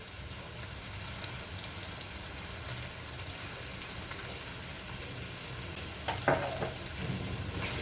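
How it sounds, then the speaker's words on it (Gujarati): Sweet potato sabzi sizzles and fries in a pan while being stirred, a steady close crackling hiss throughout with a few louder scraping stirs near the end. "ફરીવાર આપણે સરસ રીતે મિક્સ કરી લઈશું."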